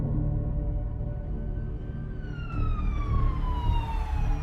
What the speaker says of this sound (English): with his lights flashing and siren blaring